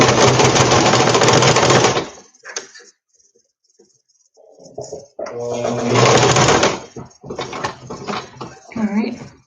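A sewing machine runs in fast, steady bursts while stitching fabric, stopping briefly in between; nearby talk is heard during the pause and the restart.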